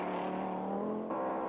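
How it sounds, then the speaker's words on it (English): Audi Quattro rally car with a faulty engine, its steady strained drone holding alone at close range, then shifting abruptly in pitch about two-thirds through. "Sala soldiers on in the Quattro, whose problems are plain to hear, soon to retire with a faulty engine."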